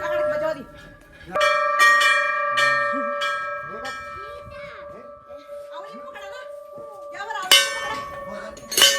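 A temple bell at Dunagiri temple in the cold Uttarakhand hills is struck repeatedly, loud ringing strikes with long sustained tones that overlap, a gap of scattered voices and movement between, then a fresh burst of strikes near the end.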